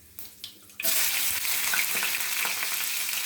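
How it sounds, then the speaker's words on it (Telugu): Chopped onions hit hot oil in a pan already holding tempering seeds, bursting into a loud, continuous sizzle after a couple of soft clinks. "ఇప్పుడు మనం ఆనియన్స్ వేయాలి."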